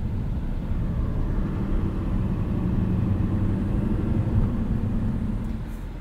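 A 2024 Chevrolet Silverado 2500HD ZR2 with the 6.6-liter Duramax turbo diesel drives on, making a continuous low engine rumble and road drone that stays even and fairly loud for several seconds, with no talking.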